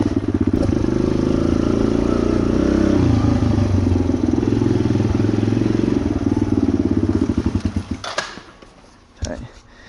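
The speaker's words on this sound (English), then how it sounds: "I hope you guys enjoyed my pit bike wheelies" A pit bike engine drones loudly at steady high revs during wheelies, then pulses and chops as the throttle is blipped and eased before dropping off, with a final brief rev near the end.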